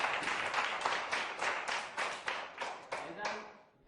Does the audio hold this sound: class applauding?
yes